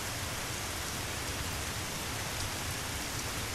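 Steady rain pours in the video game Dig or Die, a dense, even hiss of falling water that stays constant and loud throughout with no other sounds or voices.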